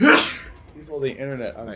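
One sharp, loud sneeze bursts out at the start, then a voice speaks right after it, close and clear.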